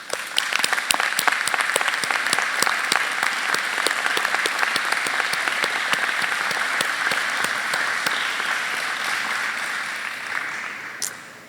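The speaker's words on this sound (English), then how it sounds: "a heartfelt round of applause" Sustained, loud applause fills a commencement ceremony hall, with dense clapping from a large crowd and sharp individual claps up front, holding steady before easing off at the end.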